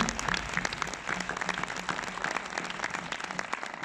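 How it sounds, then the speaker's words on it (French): Applause at an avant-première screening of On sourit pour la photo in Orléans, a dense, steady rattle of many hands clapping together, close and continuous throughout with no speech. "On peut applaudir pour de vrai"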